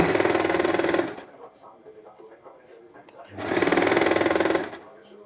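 A sewing machine runs straight stitches along a folded fabric edge, forming an elastic casing on an upcycled fabric hijab cap. It comes in two loud, steady bursts of about a second each, with quieter handling noise between them.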